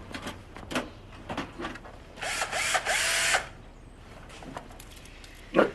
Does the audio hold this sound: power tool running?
yes